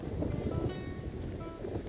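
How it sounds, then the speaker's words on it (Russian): Strong wind gusts outdoors in Odessa, rumbling low and steady against the microphone in a short, moderately loud burst with no speech. "Здесь немножко снова подуло."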